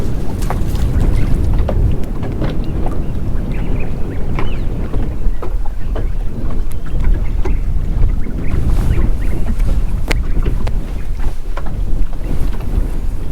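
Wind gusting across the shallows at a fishing spot, a continuous buffeting rumble over the microphone with scattered splashes and knocks, loud and close, no voices.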